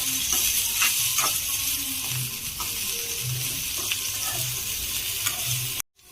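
Onion pieces frying in oil with green chillies, a loud, constant hiss and crackle punctuated by soft rhythmic scraping strokes of stirring, ending with a brief cut.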